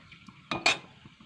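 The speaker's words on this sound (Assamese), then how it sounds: "এতিয়া মই ইয়াতে 2 কিলোমান তেজপাত দিম" Bay leaves dropped into hot oil in an old, slightly reddened wok, giving two quick sizzling bursts close up before the quiet returns.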